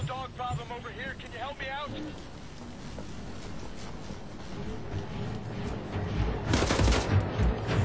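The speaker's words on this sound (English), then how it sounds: "Wow, that took a lot of bullets." Gunfire from Wolfenstein: The New Order rattles in bursts, building into loud rapid automatic fire near the end, mixed with game noise while a person talks over it.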